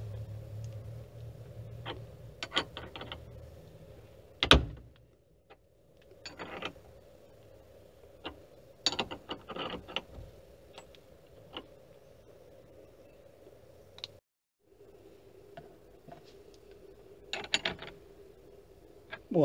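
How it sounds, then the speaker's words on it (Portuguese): An 18 mm wrench tightening the central bolt of a steering wheel puller on a new Fiat Fiorino, Uno or Palio, heard as scattered clicking and ratcheting metal taps, one sharp knock, with quiet pauses between, close and fairly faint. "tem um parafuso central que eu vou agora apertar esse aqui, ó, uma chave 18 milímetros, e ele vai soltando o volante"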